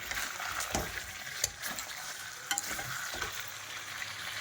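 Chicken kosha in a pan as water goes in, a hissing, bubbling sizzle with a few clinks and scrapes, close and fairly quiet with no voices.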